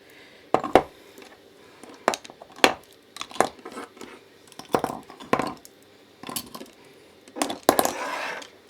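Fountain pens and their parts set down and packed away on a hard surface, giving a series of separate clicks, taps and light clatters, fairly close and alone.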